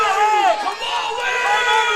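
A crowd at a high school regional wrestling championship cheering and roaring during a scramble on the mat, a loud swelling mass of voices with shouts rising and falling throughout.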